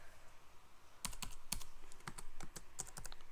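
Fingers type on a computer keyboard running Ubuntu GNOME, producing sparse clicks at first and then a denser burst of nearby keystrokes with a steady rhythm.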